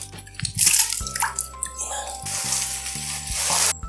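Goldfish and water are poured into a quarantine container, with splashing, dripping and sloshing water in uneven bursts close by.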